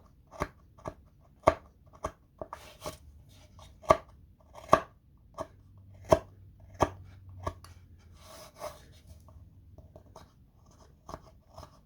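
Scissors snipping through paper while cutting out a small bunny craft, a steady series of crisp close cuts, some sharper than others, with a faint hum in the background.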